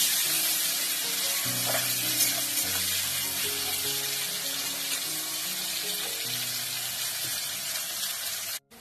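Chopped onion sizzling in hot oil in a pan while a fish curry is being cooked, a steady close crackling fry with faint clinks of stirring, continuing until an abrupt cut near the end.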